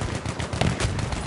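Martini-Henry rifle shots in a video game firefight, a dense, loud stretch of cracking gunfire with overlapping reports and no clear pauses.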